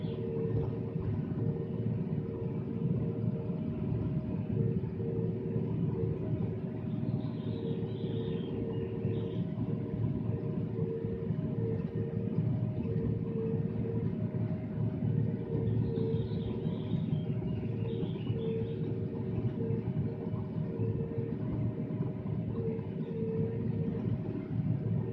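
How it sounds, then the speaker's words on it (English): A John Deere 8420 tractor drives across a rice field while fertilizing, a steady low engine rumble with a constant droning hum, heard from the cab without talking. "Let me just stop talking for a bit and let you just enjoy the tractor ride."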